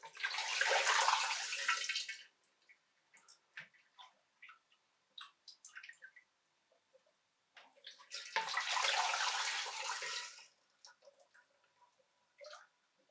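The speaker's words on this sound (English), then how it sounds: "start slowly adding the Valdepina juice" Valdepina grape juice poured into a sanitized pot comes through as two bursts of splashing liquid, each about two seconds long, separated by quiet gaps filled with small clinks and taps.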